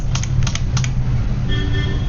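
A few quick computer keyboard key presses for an Excel shortcut, close and crisp, with a low hum underneath.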